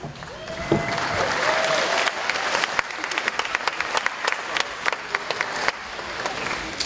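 Audience applause at an elementary school fifth grade promotion ceremony, a dense sustained wash of many hands clapping that carries steadily through the whole stretch and thins slightly toward the end.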